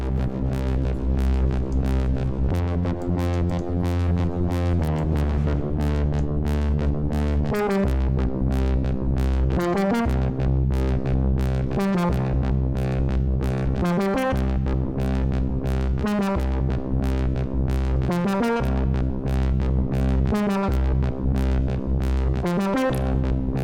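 A WaveDuo synthesizer plays sustained, distorted tones with repeating notes that echo through delay and reverb, smearing into a spacious, reverberant wash.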